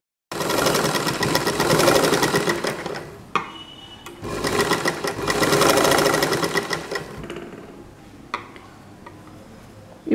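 A sewing machine stitches a double-layer fabric face mask in two long, loud, steady runs, separated by brief pauses and small clicks.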